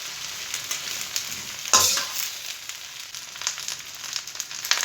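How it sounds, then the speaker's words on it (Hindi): Okra frying in hot ghee in a kadhai gives a dense, close, continuous crackling sizzle, with one louder burst of spattering and stirring partway through. "इस तरह से भिंडी को फ्राई कर लेंगे।"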